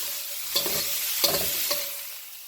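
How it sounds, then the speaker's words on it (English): Beef and broccoli stir-fry in a hot pan with a loud, continuous sizzle, and three distinct scraping pushes of a utensil tossing the food come through close up, with no voice. "I have the beef over here. I'm going to add my broccoli."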